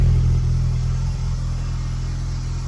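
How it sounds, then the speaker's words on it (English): A Honda K20-swapped car with a newly welded 8th-gen Civic Si exhaust idles steadily up close, a deep continuous rumble with a throaty low exhaust tone and no voices. "I love how it sounds. That's a good idle."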